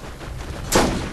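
A single loud gunshot with a broad blast, fired late in a stretch of quiet game ambience in Borderlands, with no voices.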